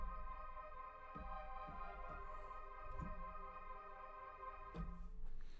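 Soft sustained Wurlitzer electric piano pad from the Spitfire Originals Wurli mellow preset, a steady, quiet, smooth chord wash with a few gentle low note onsets.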